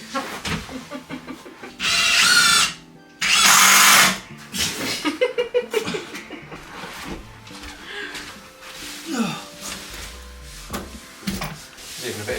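Two short, loud bursts of a blunt power drill driving screws close by, followed by clattering handling noises and a person talking.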